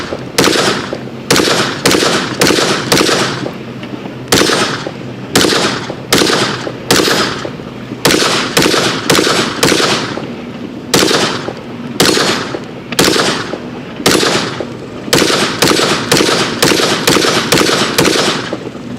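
A Smith & Wesson M&P .22 Mag 2.0 pistol fires CCI Maxi-Mag rounds in a long string of sharp, loud, closely spaced shots, each cracking with a brief echo, over many seconds with no speech.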